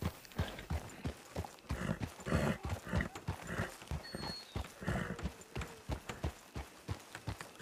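Galloping horse hooves in a French-language video game, a quick irregular clip-clop running steadily and fairly close throughout, with rustling game ambience.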